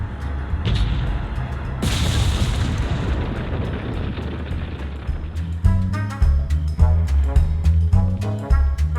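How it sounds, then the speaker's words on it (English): Cannon blast in the video game Resident Evil 4, a deep booming explosion followed by rumbling debris, then game sound effects and music continuing afterward. "you can shoot the cannon, which will despawn all the enemies, freeing Ashley in the process"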